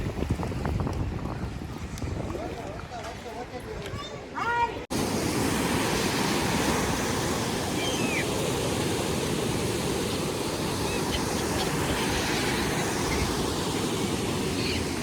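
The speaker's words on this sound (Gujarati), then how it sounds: "તો આ સમુદ્રની તમે ઊંચી ઊંચી લહેરો છે તે તમે જોઈ શકો છો" High sea waves roar on the shore at Dwarka, a steady loud wash of surf and wind, preceded by a few seconds of someone talking over the noise.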